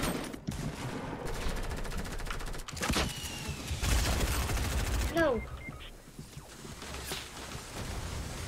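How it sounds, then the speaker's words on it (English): Rapid SMG gunfire in the Fortnite video game comes in bursts of quick cracks with game effects mixed in, while people talk over the action. "God, I can use SMG too"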